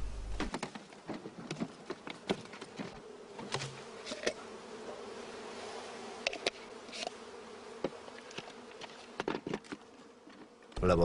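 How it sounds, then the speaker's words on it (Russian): Honey bees buzz in a steady, close drone as they are swept from their colonies into a bag for sampling during bee breeding work, with sharp brushing ticks and rustles scattered throughout. "Пчелы из этих семей будут сметены в пакет,"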